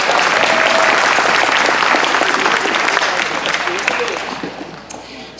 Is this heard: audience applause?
yes